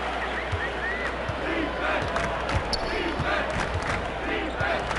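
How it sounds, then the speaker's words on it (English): A basketball arena crowd chants 'defense' in rhythmic waves during an NBA Finals game, while a ball bounces with regular thuds on the court and a broad crowd roar fills the background. "You can hear the crowd chanting defense"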